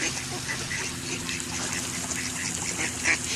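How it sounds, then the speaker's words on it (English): Ducks quack in short, scattered calls over a busy outdoor background, with people chatting nearby. "Oh, those are the 2 baby ducks."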